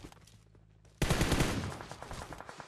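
Rapid automatic gunfire erupts suddenly in the mobile battle royale game PUBG Mobile. A dense, loud burst of shots rattles on for well over a second after a quieter stretch of faint in-game sounds.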